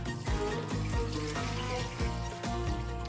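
Rinse water sloshes and pours out of a pot of rice, a continuous trickling, splashing flow close by with uneven bursts, fairly quiet and alone.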